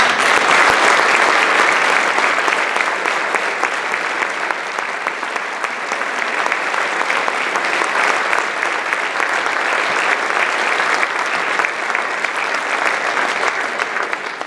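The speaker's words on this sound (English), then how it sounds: "And let's give these guys a round of applause." Audience at a high school band concert giving students a round of applause, loud, sustained clapping from a large crowd that continues unbroken for the whole stretch.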